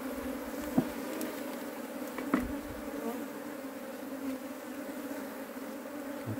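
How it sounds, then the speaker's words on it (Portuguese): A honeybee swarm cluster gathered in a shed drones with a steady, continuous buzz throughout, with a couple of brief soft knocks partway through. "Bolinho de abelha."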